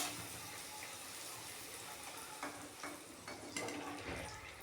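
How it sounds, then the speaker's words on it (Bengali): Fuchka puffs deep-frying in hot oil at home, giving a steady dense sizzle throughout with a few brief louder bursts of bubbling near the end, close by and without talk. "যে ফুচকাগুলো এইভাবে করে আমি ভেজে নিয়ে দেখাচ্ছি।"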